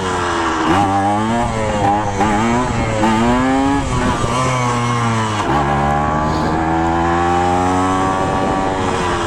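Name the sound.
Kawasaki KE100 motorcycle engine revving during a wheelie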